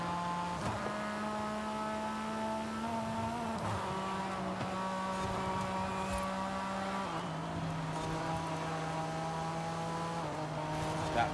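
Race car engines in the video game Forza Horizon 5 whine steadily in the background, pitch shifting as they rev and change gears, with no talking.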